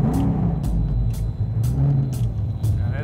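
A race car engine idles loud and close with a deep, rough, lumpy rumble, punctuated by short sharp bursts that recur about every half second, with no talking.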